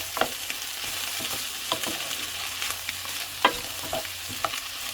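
Carrots and mushrooms being stir-fried with vegetables for fried rice, a soft constant sizzle in a pan with a few distinct scrapes and knocks of the spatula spaced through it.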